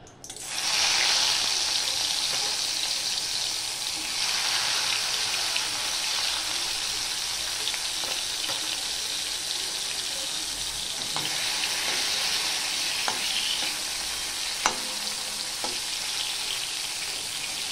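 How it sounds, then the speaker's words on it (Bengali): Tiger prawns fry in hot oil in a heated wok, a loud, dense sizzling hiss that flares at the start and holds steady throughout, with occasional faint clinks and no speech. "এবার আমি এই বাগদা চিংড়িগুলো ভেজে নেব।"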